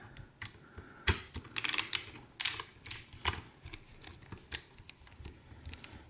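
A screwdriver works a screw loose from the drive tray of a Minisforum Deskmini U850 mini PC, giving close, quiet, irregular metallic clicks and ticks, with no talking.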